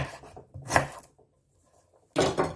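A knife slicing through Asian food ingredients on a cutting board in a kitchen, two short scraping chops separated by a brief silence, close and fairly quiet.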